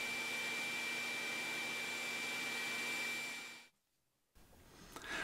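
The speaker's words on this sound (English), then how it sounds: "We can demonstrate this using a shop vacuum." Shop vacuum fitted with a 2-inch hose sucking up dust, a loud steady whine and rush of air that cuts off abruptly, then a softer restart after a short silence.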